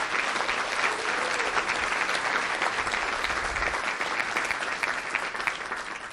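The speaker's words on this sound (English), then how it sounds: "Let's give them a huge round of applause." Sustained audience applause for school district staff at a district state-of-the-district event, dense and even throughout with steady clapping from a large crowd.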